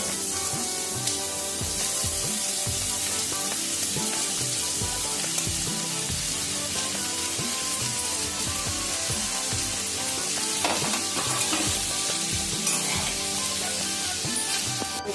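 Momos frying in hot oil, a dense, continuous sizzle and crackle, loud and close, with bubbling and occasional spattering throughout and no voices.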